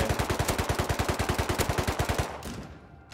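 Automatic AK rifle gunfire in the video game Rust, a fast steady stream of about twenty loud close shots that stops abruptly and leaves a fading echo.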